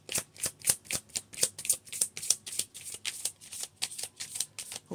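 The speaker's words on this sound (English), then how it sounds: "It might take a little longer, seeing I'm shuffling on camera." A deck of tarot cards is shuffled by hand close up, giving a quick, regular run of crisp riffling flicks and soft slaps, about a dozen in a row, with no talking.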